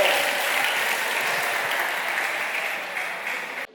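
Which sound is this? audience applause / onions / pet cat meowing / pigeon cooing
audience applause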